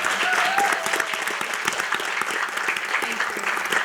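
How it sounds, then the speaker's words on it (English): An audience at a school board meeting claps steadily throughout, a dense, continuous round of applause filling the room. "So a round of applause."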